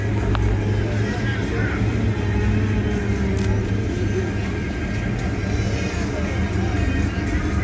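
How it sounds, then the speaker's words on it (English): An old station wagon rolling past in a small-town apple festival parade in Lincoln, Arkansas, a low steady engine rumble under a constant crowd and street ambience. "There's an old station wagon."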